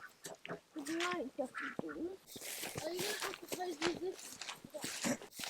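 Ducks quack repeatedly at close range while people talk over them, with shuffling footsteps in the background.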